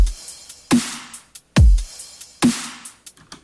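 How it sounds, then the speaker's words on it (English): A simple drum loop built in FL Studio: punchy kicks, snappy snares and ticking hi-hats with a little reverb on the hats, repeating in a steady pattern of loud hits, alone with no voices. "I actually made a drum loop, just really simple."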